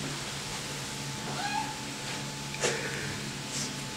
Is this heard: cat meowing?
yes